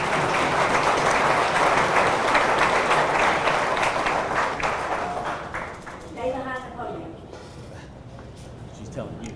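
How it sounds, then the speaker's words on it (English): Audience at a high school athletic hall of fame ceremony applauds for an incoming speaker, a loud, dense wash of clapping that fades out toward the end, leaving a brief murmur of voices. "Let's give him a round of applause"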